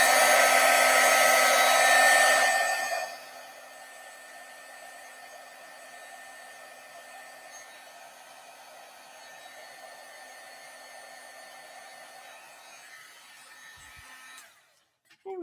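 A heat tool blows loudly for about three seconds to dry freshly stamped paper, then drops to a quieter steady whir that runs until it cuts off near the end.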